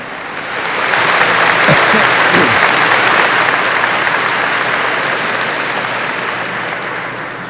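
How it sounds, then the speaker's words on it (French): An audience at an August 2008 novena gathering applauds loudly, with dense, sustained clapping that swells in the first second and holds for about seven seconds before easing slightly. "Nous applaudissons"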